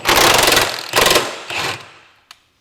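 A power tool on Kia Telluride subframe bolts fires three quick bursts, each one shorter than the one before, and a small metallic clink follows at the end.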